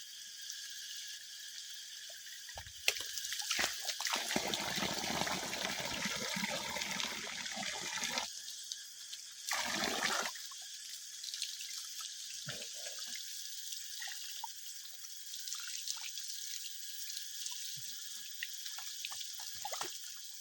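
Water splashes and pours steadily into a bowl while dishes and vegetables are washed outdoors, with a brief pause midway and then a continued gentle trickle and drips.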